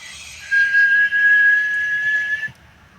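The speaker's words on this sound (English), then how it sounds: "take my tongue, put it on the roof of my mouth, and blow, and I can whistle" A single sustained, high, fairly loud whistle made by blowing with the tongue against the roof of the mouth, lasting about two seconds, close and alone.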